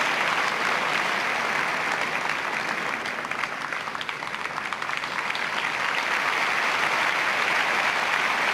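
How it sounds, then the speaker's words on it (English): Wimbledon tennis crowd at the 1991 championships applauding steadily, a dense, loud, continuous wash of clapping that holds through the whole stretch with no break. "the crowd here are giving her a tremendous amount of support"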